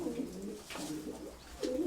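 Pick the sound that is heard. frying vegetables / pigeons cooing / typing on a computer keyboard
pigeons cooing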